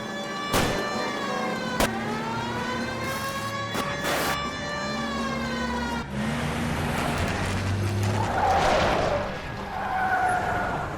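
Tires skid and squeal repeatedly in a car chase in the video game L.A. Noire, long wavering screeches over a running engine, then a rougher burst of scraping and engine roar, close and loud with no talk.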